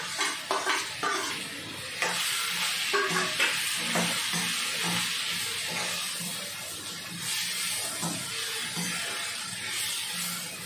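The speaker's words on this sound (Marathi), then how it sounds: "थोडी तेलात परतून घेते." Okra pieces sautéing in oil sizzle steadily in a pan, with repeated spatula scrapes and light stirring taps up close.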